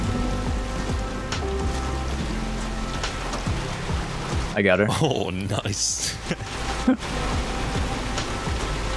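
Steady rain hisses through the Hunt: Showdown rainstorm, a continuous wash of downpour sitting under close conversation between players, with a few brief louder knocks and clatters mid-way.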